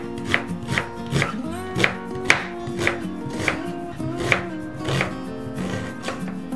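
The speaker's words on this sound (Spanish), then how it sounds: "Ahora vamos a empezar con la cebolla." Knife chopping an onion on a cutting board, a steady rhythm of about two crisp, close thuds per second over a ringing tonal background, with no talking.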